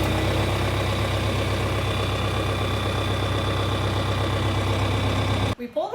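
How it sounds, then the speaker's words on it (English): Tractor engine running with a sickle mower hooked up for cutting hay, a loud, steady, close idling rumble throughout that cuts off abruptly near the end. "Got the sickle mower hooked up. Let's get this thing out of the weeds."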